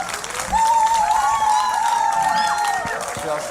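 Concert audience applause at a gala concert in Gdynia, a dense sustained wash of clapping and crowd noise with a sung or held tonal voice line riding over it near the start.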